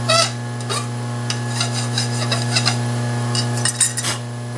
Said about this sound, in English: Now's a good time to take the burrs off these corners because they're all lined up.